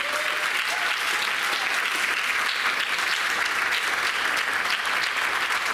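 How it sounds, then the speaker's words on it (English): Steady, even applause fills a high school senior achievement ceremony hall as the crowd honors an eleventh-grade student, continuous throughout without speech. "how about a round of applause for Maria Carrasco, an 11th grade student"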